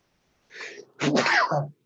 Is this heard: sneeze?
yes